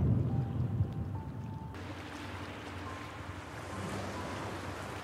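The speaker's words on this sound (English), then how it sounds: "listen to the ocean waves for the next minute and a half" Ocean waves washing onto a winter beach, a steady broad rush with wind noise, fairly faint and continuous with no voices.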